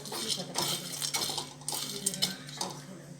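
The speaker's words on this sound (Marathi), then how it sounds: "चक्रीफुल आता आपण भाजून घेऊया" Star anise roasting in a pan, with quick clattering scrapes and rattles of the spice being stirred, repeated in short bursts over a few seconds, close and moderately quiet with no talking.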